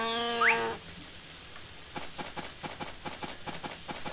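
A cow in the farming video game Harvest Moon: A Wonderful Life lets out a short, nasal moo. Quiet, evenly spaced clip-clopping steps follow in the background.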